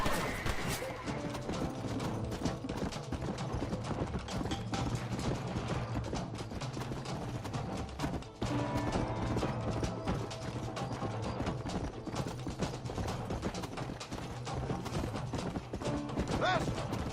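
Horses' hooves clip-clop steadily in Red Dead Redemption, mixed into a dense, busy game soundscape with music and shouting voices layered over the rhythmic hoofbeats throughout.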